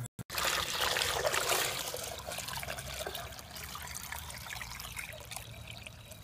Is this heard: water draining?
yes